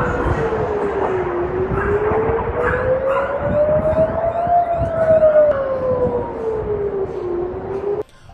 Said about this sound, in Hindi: जैसे ही हवाई हमलों के सायरन बजते हैं